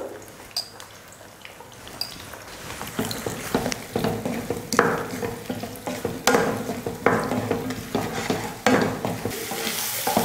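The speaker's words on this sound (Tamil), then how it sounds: "கத்திரிக்காயவும் முட்டையவும் இது போல் கலந்துட்டு வேறு தட்டில் மாற்றி வச்சுக்கலாம்" Brinjal and egg fry is stirred in a pan, with repeated scraping strokes over a soft sizzle, close and fairly busy throughout.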